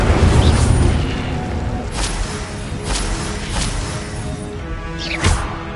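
An Incendio fire spell goes off in a video game as a loud roaring blast with whooshing swells and short crackling bursts spread across several seconds.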